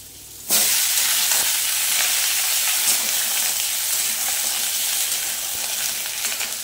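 Pieces of gourd hit hot oil in a pan and burst into a loud, steady frying sizzle that starts suddenly and holds as a bright continuous hiss, with no talking over it.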